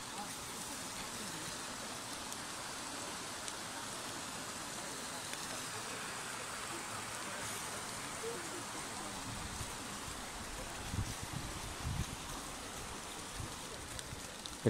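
Water falls and rain patters in autumn woods near Puerto de Béjar, Spain, making a steady, even wash of noise with no voices, which swells slightly toward the end.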